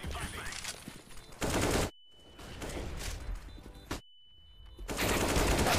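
Rapid bursts of automatic gunfire in a video game, loud and close, arriving in dense volleys broken by short pauses, with a thin steady tone in the gaps.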